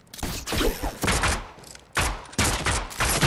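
Loud video game gunfire in a 1v1 match, with several sharp bursts of rapid shots separated by brief pauses, close and dominant.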